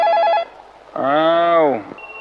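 A telephone rings briefly with a warbling electronic tone as a caller phones in to a Thai temple radio program from Wat Sophanaram, followed by a voice speaking.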